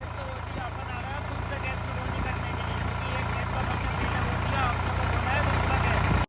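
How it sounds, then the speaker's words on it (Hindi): A tractor engine runs steadily on a farm during soybean sowing, a low, continuous rumbling drone that grows slightly louder over the stretch, with faint background sounds over it. "अपन अब ट्रैक्टर को लेकर चलते हैं दूसरे खेत में।"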